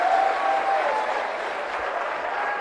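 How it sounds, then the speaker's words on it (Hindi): Crowd of devotees at a religious gathering breaking into steady applause, clapping with raised hands; the dense clatter holds evenly loud throughout with no voices over it. "मैं चाहूंगा एक बार हाथ ऊपर करके सारे लोग ताली बजा दें, जोरदार ताली आप सबकी तरफ से बजनी चाहिए।"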